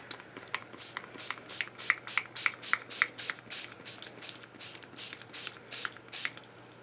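Art spray hisses onto a journal page in about twenty short, rhythmic bursts, each a close, crisp spritz from a pump bottle, with no talk.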